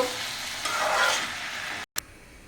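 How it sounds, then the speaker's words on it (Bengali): Roti chapati frying in a pan, a steady close sizzle with a brief swell of stirring or pressing, then a sudden cut and a short burst. "এখন আমি রুটি ভাজবো"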